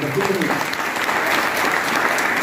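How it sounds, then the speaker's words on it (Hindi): Dense, steady applause from an audience at a motivational talk, a continuous wash of clapping with a voice briefly audible over it. "ताली जोरदार हो"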